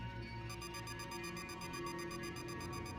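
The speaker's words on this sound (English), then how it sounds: "I did not like the sound of that beeping noise." Rapid, evenly spaced electronic beeping plays over a steady low hum in the video game Grey Skies: A War of the Worlds Story, starting after a brief pause and continuing without any talk.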